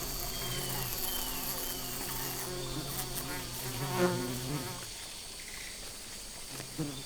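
Bees buzz continuously around treehoppers in the Amazon, a droning hum that rises and falls, with a sharper swell in the middle before it thins out.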